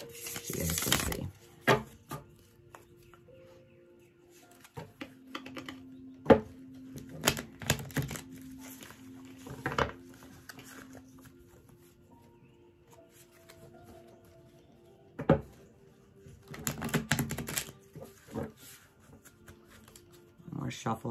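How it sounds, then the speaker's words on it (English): Very thin, bendable tarot cards being shuffled in several short riffling bursts separated by quieter pauses, close up and fairly soft. "So let's give these some shuffles."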